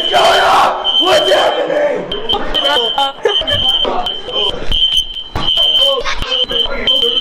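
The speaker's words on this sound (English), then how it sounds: "What were your first thoughts when the alarm went off?" A fire alarm sounds during a fire drill, a steady high-pitched tone that pulses on and off under loud shouting and overlapping voices.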